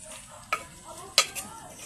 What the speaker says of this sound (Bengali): মাটির হাঁড়িতে মুরগির ছাল কি করে রান্না করতে হয় দেখো